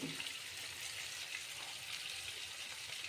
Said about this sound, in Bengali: পনিরগুলি একটু লাল করে ভেজে নেবো